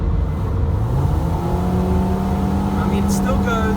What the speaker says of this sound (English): Do a free rev here.